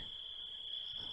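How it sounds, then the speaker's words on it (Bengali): Crickets chirp at night in a steady, unbroken high trill that holds evenly throughout, fairly faint, with no voices or other sounds. "ঝিঝি পোকা ও শেয়ালের ডাক ছাড়া কোথাও কোনো শব্দ নেই"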